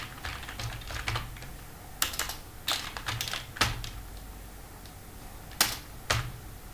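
Someone types code on a computer keyboard with crisp, close keystroke clicks in uneven bursts and short pauses, a few heavier key presses standing out, with no talking.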